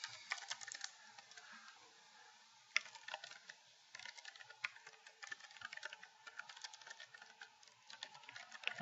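Typing on a computer keyboard, with steady bursts of fairly quiet, close key clicks and brief pauses, including one sharper isolated tap; no voices.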